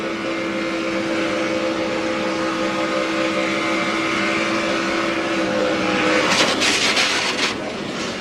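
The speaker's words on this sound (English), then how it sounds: "You can hear him on the gas hard." NASCAR Truck Series truck engine held at full throttle on track, a loud steady drone with sustained tonal whine, rising into a rougher, louder burst near the end.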